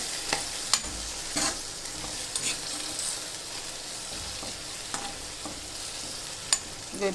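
Gulivindala sea-fish pulusu cooks in a pot with a steady bubbling sizzle, broken by occasional sharp clinks and scrapes of a spoon against the vessel, close up and with no voices.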